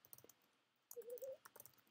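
Soft, quick keystrokes on a computer keyboard come in short bursts of clicks while someone types fast, with a brief faint tone in the middle and no talk.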